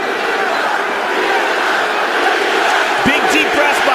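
Large arena crowd at the Conor McGregor vs Nate Diaz rematch roaring and chanting Diaz, a loud, steady dense wall of voices with a few sharper shouts rising near the end.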